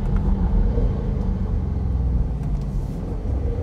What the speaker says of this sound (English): Full throttle. Bounce off the rev limiter there.